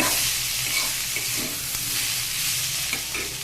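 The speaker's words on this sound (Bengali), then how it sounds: "দেখুন আমার সবজিটা কিন্তু বেশ ভালো করেই ভাজা হয়ে গিয়েছে।" Vegetables sizzling as they fry in a pan, a dense, steady crackle with light stirring scrapes throughout, close and without speech.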